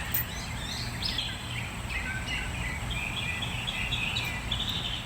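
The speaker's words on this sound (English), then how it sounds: "The birds are out here singing." Birds sing outdoors on a sunny, humid day, with several overlapping chirps and short warbling phrases at moderate distance over a steady outdoor background hiss.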